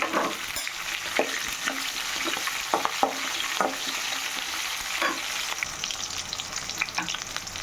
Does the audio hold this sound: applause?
no